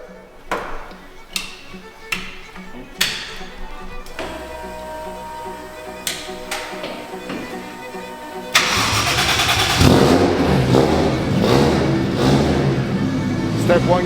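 A 1JZ-powered NASCAR race car engine cranks and catches after several sharp clicks and knocks, then settles into a loud, rough running roar, with people talking nearby beforehand.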